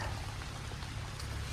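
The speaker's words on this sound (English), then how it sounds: "I don't know if you can hear the rain, but it's heavy." Heavy rain pours down outdoors at night, a dense, even hiss of drops hitting the ground that holds steady and fairly faint across the short stretch, with no one speaking.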